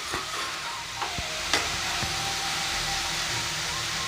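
Grated carrot sautés in hot ghee for carrot halwa, a steady close sizzle broken by a few sharp scrapes and knocks of stirring.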